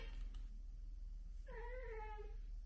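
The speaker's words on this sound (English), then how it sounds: "that's the cat" Pet cat giving a single clear, drawn-out meow indoors, faint against a steady low background hum, after a quiet stretch.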